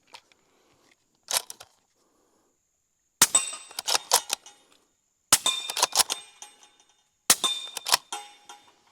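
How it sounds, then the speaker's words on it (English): Outdoors, a 300 Blackout rifle fires at steel targets downrange: one distant shot, then three bursts of sharp cracks, each followed by bright metallic clangs and pings ringing off the steel. "We've got the 300 Blackout, we've got a bag here, and I've got 3 steels downrange."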